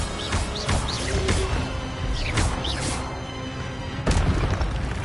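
Incendio fire spells go off repeatedly in Hogwarts Legacy, a series of whooshing bursts and booming impacts spread across the stretch, with bird-like chirps from the game mixed in and a heavier blast near the end.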